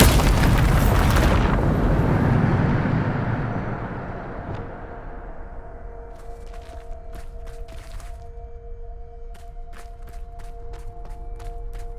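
A loud, deep booming explosion from the Bombarda spell in the video game Hogwarts Legacy hits at the start and rumbles away over several seconds. A steady hum and scattered light clicks follow.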